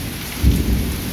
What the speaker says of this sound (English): I'm enjoying the rain though.